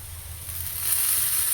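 Raw banana slices shallow-frying in a pan give off a steady, close sizzle that swells a little louder partway through, with no talking.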